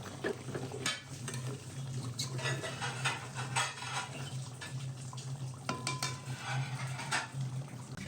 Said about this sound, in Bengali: এটা অনবরত নাড়তে হবে।